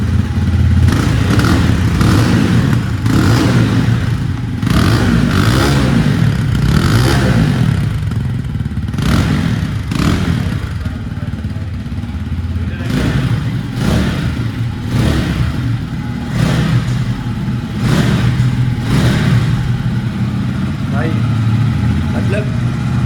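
An imported sports motorcycle in Karachi is revved hard again and again through its exhaust, a loud close roar with repeated surges. Voices talk faintly underneath.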